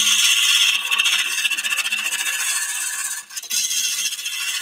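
A wood lathe roughing out a turned bowl in a woodworking store: a steady, close, loud rasping scrape of the gouge against spinning wood, with a brief dip midway.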